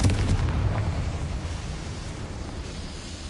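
Confringo spell explosion in Hogwarts Legacy, a loud, dense roar of blast noise that fills the whole span and fades slightly toward the end.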